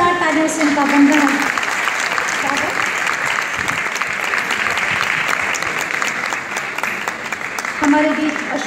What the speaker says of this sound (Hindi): जोरदार तालियों से इनका वंदना।